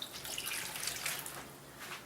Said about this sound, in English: Now I'm going to add some water.